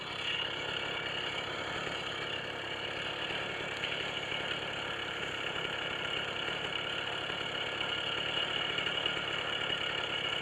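A small 80cc two-stroke engine on a motorized bicycle runs steadily and close by, a constant buzzing drone with no talk over it.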